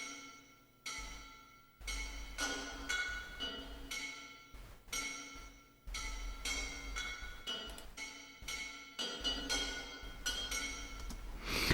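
Bright metallic percussion with a ringing, glassy shimmer, as from a struck vibraphone frame or tam-tam, recurs in repeated hits over a low sustained rumble in a dense orchestral rescore of a Terminator track.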